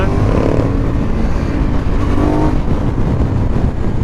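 A 2018 Aprilia Dorsoduro 900 motorcycle is ridden on a road, its engine droning loud and close throughout with strong low rumble and wind noise.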